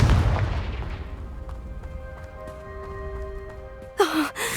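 A Confringo fire-blast spell from Hogwarts Legacy goes off as a loud, booming burst at the start, its rumble decaying over several seconds under faint musical tones, before a second sharp crackling hit near the end.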